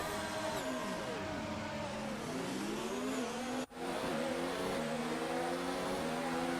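Race cars idling and revving on a formation lap of the Abu Dhabi Grand Prix under the lights in a racing video game. Several layered engine tones rise and fall steadily throughout, loud and continuous, with a brief dip midway.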